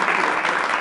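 Applause at an awards interview setting, a brief, even burst of many hands clapping, loud and continuous.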